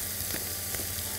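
Garlic fries in a pan with a close, steady sizzle that holds even throughout, with a couple of faint pops and no talking.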